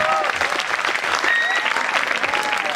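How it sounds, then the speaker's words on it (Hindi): An audience at a mushaira poetry gathering bursts into continuous clapping, loud and dense, with whistles and cheers rising over it. "ज़रा तालियां बजा के बता दीजिए एक बार"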